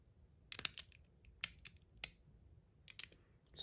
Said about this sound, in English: This is the stainless steel bubble from Metal Toys.